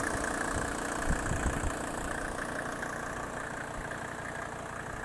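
A 1986 Mercedes G-class with a 2.5-litre OM605 multi-valve turbo diesel runs steadily, a low continuous rumble with a light knocking clatter, close and even throughout with no talking.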